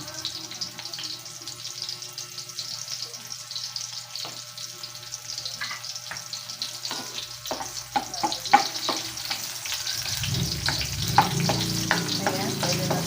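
Onions sizzle in a hot pan while cooking ginataang manok with papaya, a steady close frying hiss with scattered clicks of stirring, growing louder and denser near the end.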